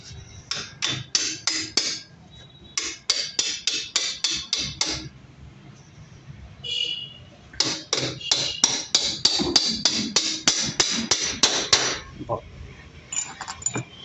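Rapid, ringing hammer blows on metal parts during an electric conversion of a TVS Scooty Teenz scooter, struck in fast bursts with short pauses, close and loud.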